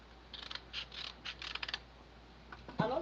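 Scissors snip through paper while cutting out a traced letter R, a quick series of crisp, close cuts in small bursts, then a short pause and a brief knock at the end.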